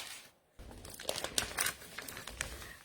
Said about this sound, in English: So maybe I will cut out a bit of the gold.